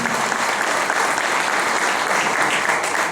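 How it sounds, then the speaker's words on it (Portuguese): A room full of people at a book launch applauds the guest author, steady, dense clapping holding at an even level throughout, close and sustained with no voices over it. "mais de novo uma salva de palmas para o nosso"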